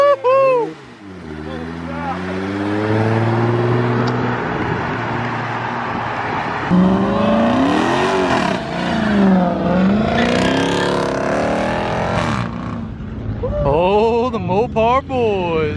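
Cars revving hard and accelerating away one after another as they leave a car show, including a BMW, with loud rising and falling engine notes close by under an excited, cheering crowd.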